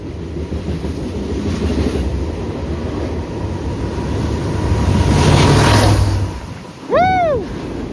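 Freight train rolling past close by with its DPU locomotive approaching among the boxcars, a steady rumbling roar of wheels that swells and then drops away, ending with a loud horn-like sweeping tone.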